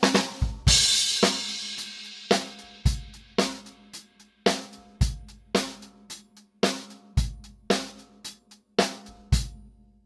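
Drum kit groove with bass drum on beat one and snare on two and four, played alone at a steady moderate tempo with crisp, ringing hits and cymbal wash at the start.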